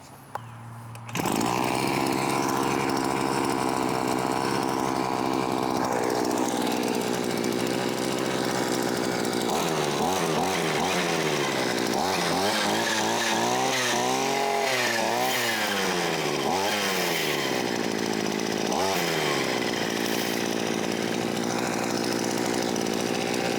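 A Vevor 6-in-1 gas trimmer engine cranks up and runs loud and close, a steady high-revving two-stroke buzz sustained for over twenty seconds with wavering pitch as the throttle varies.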